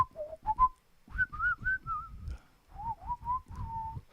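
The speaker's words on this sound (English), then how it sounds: "I whistle so much I annoy everybody who lives with me." A person whistling a short, wandering melody of sustained tones in two phrases, close and fairly soft, with brief pauses and breathy gaps between notes and no talking.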